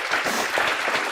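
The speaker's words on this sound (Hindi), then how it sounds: "चलो एक बार जोरदार तालियां वापस से अपने लिए।" Students applaud themselves at the start of a CA Inter law lecture with a short, dense burst of clapping that stays steady and moderately loud throughout.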